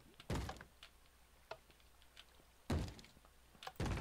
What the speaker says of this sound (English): What do I hear knocking?